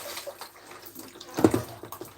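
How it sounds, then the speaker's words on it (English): Water squeezed out of a soaked cuddly toy, a soft wet squelch and trickle of dripping liquid, close and fairly quiet with a brief louder splash midway. "So we're now squeezing all the water out of the cuddly toy"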